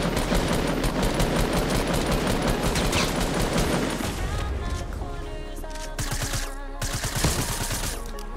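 Dense, loud automatic gunfire in Fortnite: Battle Royale hammers nearly continuously at first, then breaks into spaced shots and shorter bursts.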